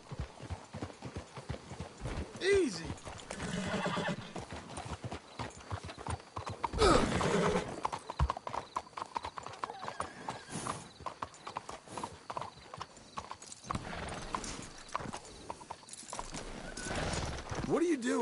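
Horses in the Red Dead Redemption 2 video game clip-clop steadily and whinny now and then, close by, while characters talk briefly over the hoofbeats.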